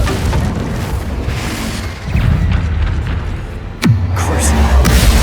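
A Confringo blasting curse explodes in the Hogwarts Legacy video game, one sharp, loud boom with a falling tail rising out of steady in-game rumble and ambience.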